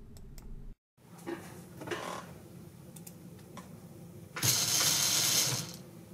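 VEX robot motors run, giving a mechanical whir with gear ratcheting that starts after a brief pause, hums at moderate level, then jumps to a louder, harsher grinding burst for about a second near the end.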